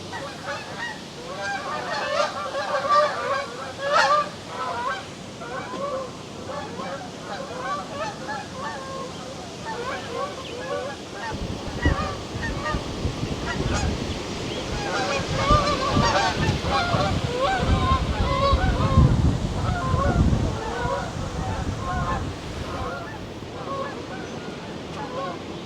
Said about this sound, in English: We got some geese flying over.